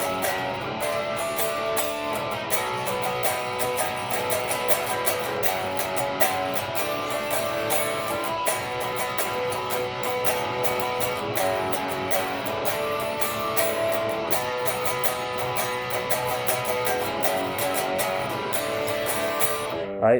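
Dense, steady guitar-driven rock playing fills the stretch, the pre-chorus, loud and continuous with rhythmic strummed attacks throughout and no speech on top.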